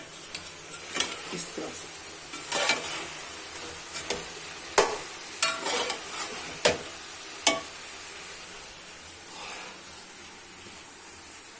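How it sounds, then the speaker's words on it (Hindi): Eggplant pieces frying in a pan for a Pakistani vegetable dish, a soft sizzle under a series of sharp spatula scrapes and taps in the first half, then a quieter fry; a brief voice speaks. "और बैंगनों को थोड़ा सा भूनेंगे"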